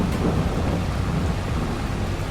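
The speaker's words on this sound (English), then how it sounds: "And there comes the thunder" Thunder rumbles low and heavy during a rainstorm over a farm, with steady rain hissing on surfaces throughout, the rolling boom filling the short stretch close and loud.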